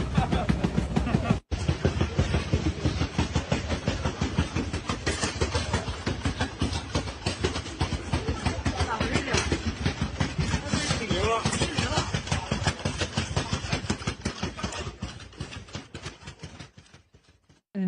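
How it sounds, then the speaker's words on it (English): A malfunctioning robot thrashes on a floor, producing rapid, relentless rhythmic clanking and banging like clattering machinery, loud and sustained for many seconds before fading, with voices talking over it. "that sound you can hear listening to us via the radio is a robot on the floor making that"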